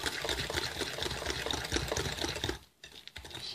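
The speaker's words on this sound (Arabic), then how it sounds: "معلش هنضربها كده كويس قوي وهنرجع مع بعض كده" Electric mixer beating a mixture for date biscuits, a close, busy whirring buzz with rattling that briefly cuts out and then starts again.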